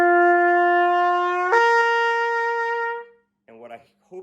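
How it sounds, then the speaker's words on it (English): A brass valve instrument holds a steady note, then slides upward in a glissando to a higher sustained pitch, bright and close; a brief breathy fragment follows after a pause. "So we're going to gliss and we're going to blow a little bit out and up."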